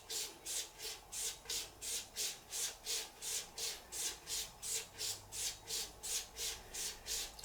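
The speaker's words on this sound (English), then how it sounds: "I do move it sort of back and forth on the old strop a bit." A straight razor is drawn back and forth along a leather strop in a steady rhythm of about sixteen soft, close swishes, each stroke a brief airy rub.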